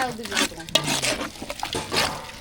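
Egg masala is stirred and mixed in a pan while cooking for a non-veg feast. The spoon scrapes and sloshes close by in repeated strokes over a soft sizzle, with a voice briefly present.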